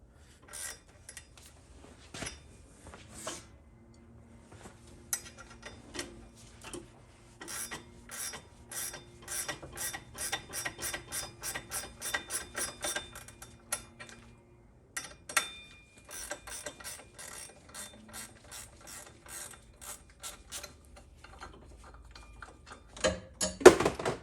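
On a fourth-generation Pontiac Trans Am F-body with an LT1 engine, a half-inch wrench turns the forcing screw of a puller. It gives rapid ratcheting clicks in bursts with pauses, close and fairly quiet, ending in a few louder clanks.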